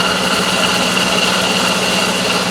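A car engine idles steadily up close, a constant whirring hum with a faint rhythmic ticking that could come from worn alternator bearings.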